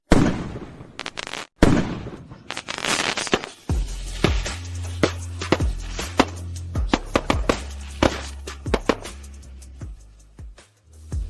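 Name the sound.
fireworks show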